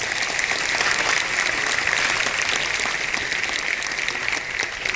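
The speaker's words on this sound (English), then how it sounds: "Give them a big round of applause as well." A large audience at an Amway recognition event in Malaysia applauds steadily, a dense, even wash of clapping that holds at full strength for the whole stretch without fading.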